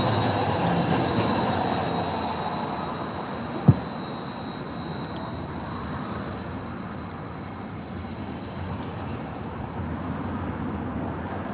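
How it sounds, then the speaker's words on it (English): A trolley train on a local rail system rumbles past steadily, its wheels squealing thinly throughout, with a single sharp clack partway through and no talk. "And there's our local train system. Some kind of trolley."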